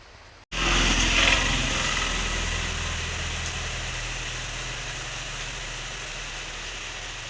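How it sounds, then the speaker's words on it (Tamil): Heavy rain pours steadily on an overcast, misty afternoon in a Tamil village, a dense, continuous hiss that starts abruptly and stays loud and even throughout, with no talking. "நல்லா மழை பெய்யுதுங்க விடவே இல்லை"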